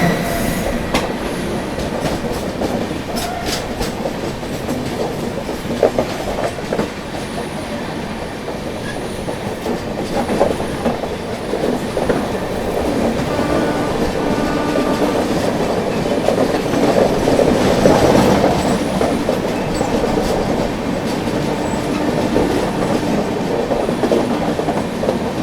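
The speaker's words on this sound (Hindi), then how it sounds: "सामने से आ रही है आप लोगों की CSMT गोमती नगर पुष्पक एक्सप्रेस" The CSMT–Gomti Nagar Pushpak Express rolls past with a steady rumble, clattering wheels and some squeal from the rail cars, growing louder toward the middle and holding strong throughout, with no voices.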